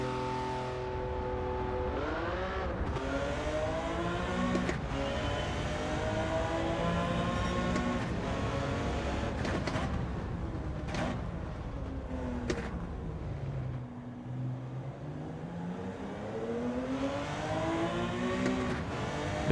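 A race car engine in Gran Turismo 7 revs and holds high, with rising and falling pitch sweeps as gears shift and speed changes, loud and continuous with no voices.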